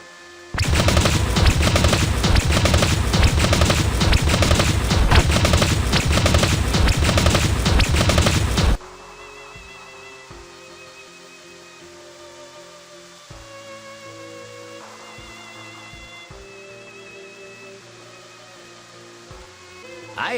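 Sustained machine gun fusillade in the game Dragon Raja, loud and dense for about eight seconds, then cutting off into quieter music-like ambience for the remainder.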